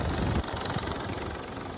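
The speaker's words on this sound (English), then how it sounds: "An Icelandic Coast Guard helicopter braving blackened skies to capture these extraordinary scenes" An Icelandic Coast Guard helicopter flies over an erupting volcanic fissure in southwest Iceland, its steady rotor and engine roar loud and continuous, with no voices.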